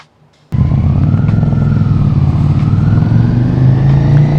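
A modified Ducati Scrambler motorcycle starts riding on the street after a brief quiet moment, its engine holding a loud, steady, close drone with a slowly rising pitch.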